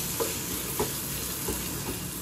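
Chopped onion and two garlic cloves frying in a pan for egg soup give a soft, steady hiss with a few faint taps of a spoon, heard alone.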